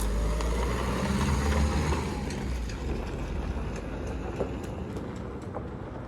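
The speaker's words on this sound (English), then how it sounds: "I can hear it changing gear, so there's no problems there." A crash-repaired Citroen Berlingo van drives around a yard, its engine a steady low rumble with a gear change and tyre crunch on stones, fairly close and continuous, with no voices.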